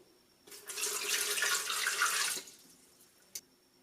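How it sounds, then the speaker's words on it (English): Warm water pours into a Ninja Foodi Power Blender pitcher fitted with a dough blade, a steady rushing stream for about two seconds, then stopping, followed by a single faint knock. "add warm water"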